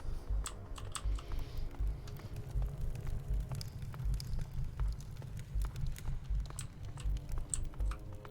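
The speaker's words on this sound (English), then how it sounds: "it's a mechanical keyboard, so it's going to be a little bit louder." Rapid clacking keystrokes on a mechanical computer keyboard, close and steady with irregular rhythm, alone without talk.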